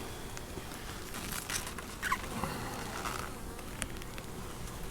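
Faint, steady buzzing of honeybees around an open hive during an inspection in July, with a few brief clicks and knocks of handling over the low hum.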